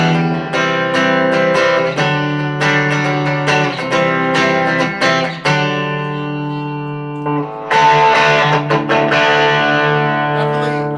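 Electric guitar chords from an Epiphone Les Paul Special II ring out with heavy distortion, strummed in rhythmic bursts with sustained, crunchy tones and brief pauses between phrases.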